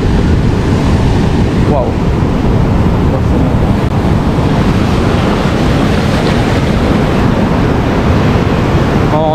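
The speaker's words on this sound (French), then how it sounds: "Regardez ces rouleaux." Rolling waves on a wild river seen from a kayak trip, a continuous loud rush of churning water mixed with wind buffeting the microphone, with a brief exclamation from a voice.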